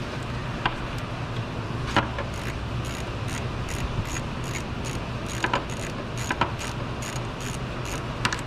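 A wrench with a cheater bar works a bolt on a 2016 Hyundai Elantra AC compressor, giving soft mechanical ratcheting and several sharp metallic clicks and clinks over a quiet background.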